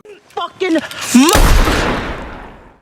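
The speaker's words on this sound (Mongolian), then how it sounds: "Бууны төлөө тэмцэлдэх зураа Айрис бие хамгаалснаар Элайыг бууддаг." A single loud gunshot in a film scene during a struggle over a gun, cracking sharply after a few brief voiced sounds and then trailing off in a long, decaying echo.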